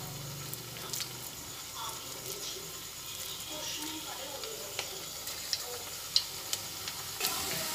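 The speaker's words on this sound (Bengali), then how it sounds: "তেল গরম হয়ে গেছে, এক এক করে পকোড়াগুলো তেলের মধ্যে ছেড়ে দিচ্ছি।" Onion pakoras dropped one at a time into hot oil give a soft, steady frying sizzle with a few small ticks and pops.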